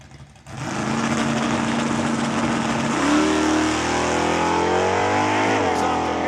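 A Barracuda drag race car launches hard down the track at a raceway season opener, its engine roaring loud and steady, then the pitch shifts as it pulls away. Faint voices sit under the roar.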